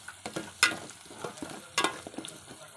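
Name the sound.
drumsticks added to masala, simmering brain curry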